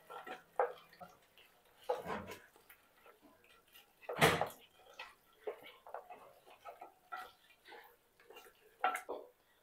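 Chicken mixed with ginger garlic paste in a bowl for Hyderabadi chicken dum biryani, giving quiet, irregular wet squishes and light clinks against the bowl, with a faint voice now and then.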